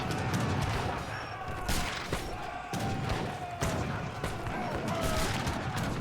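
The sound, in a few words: mortars firing in a video game (Age of Empires III)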